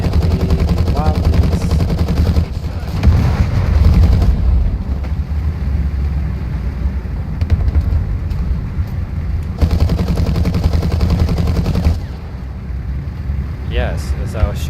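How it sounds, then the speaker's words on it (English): Sustained bursts of heavy machine-gun fire from a .30 caliber gun, loud and close, rolling on for several seconds with brief lulls, mixed with voices and background rumble. "as I was shooting with my 30 cal machine gun"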